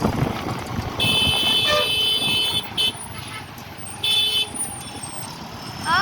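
Road traffic near Marina Beach: a steady rumble of cars and trucks with several near, loud horn honks, some short and some held, sounding one after another.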